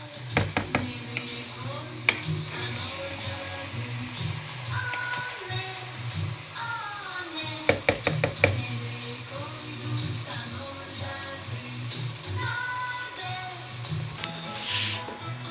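Içli köfte mixture is stirred and mixed by hand in a bowl in a home kitchen, with repeated scraping and clinks of utensil against the dish, and someone talks over the steady mixing.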